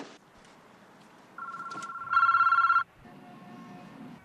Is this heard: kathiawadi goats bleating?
no